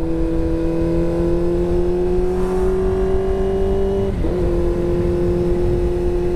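Steady engine drone with a sustained tone and a brief pitch dip midway, from a motorcycle speeding on a Sunday group ride, loud and continuous with no talk.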